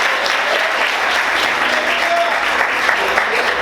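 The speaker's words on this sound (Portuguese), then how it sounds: "Você pode aplaudir o Senhor" Church congregation applauding the Lord during a Portuguese-language sermon, steady dense clapping filling the room throughout, loud and close, with a faint voice murmuring underneath.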